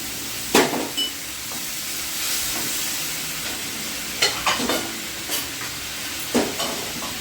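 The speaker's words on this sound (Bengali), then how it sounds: "আমি এখানে গরম জল দিলাম" Hot water goes into a sizzling pan of thin rohu fish curry, giving a continuous close hiss and bubbling with several sharp bursts and clatters of stirring.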